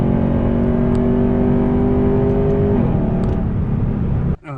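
Second-generation Lexus GS accelerating hard, its engine note climbing steadily before an upshift drops the pitch near the end, loud and close with no talk.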